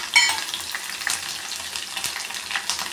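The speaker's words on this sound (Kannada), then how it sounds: "ಇದು ಕೂಡ ಚೆನ್ನಾಗಿ ಫ್ರೈ ಆಗಲಿ." Crushed, unpeeled garlic cloves frying in oil with mustard seeds for lemon pickle, a dense close sizzle with scattered sharp pops and crackles throughout.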